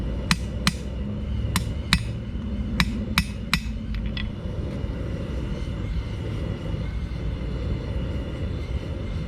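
A hammer forges steel on an anvil with about eight sharp, ringing strikes in an uneven rhythm over the first few seconds, then stops and leaves a steady low mechanical drone.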